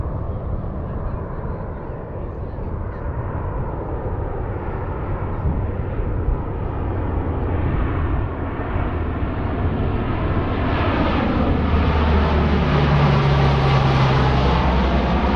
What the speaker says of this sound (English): I believe that's a C-130 on approach.